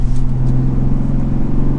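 A Mazda MX-5 Miata or Toyota GR Supra sports car in sport mode, its engine and aggressively tuned exhaust droning loud and steady at close range while cornering, with no talk.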